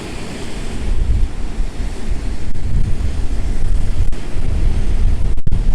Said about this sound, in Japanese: 向こう側の湾の方がちょっと波が激しいようです。